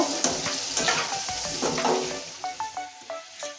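Potatoes fry with coriander powder and spices in a pan, a close sizzle broken by quick stirring scrapes and clacks of the spoon, with no talk.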